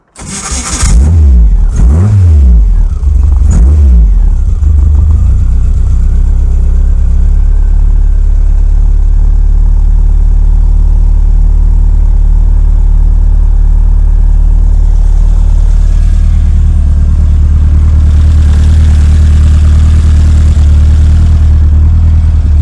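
A vehicle engine recently repaired with a new crank sensor cranks in several quick bursts, catches and starts, then settles into a loud, steady idle that runs on and swells slightly near the end.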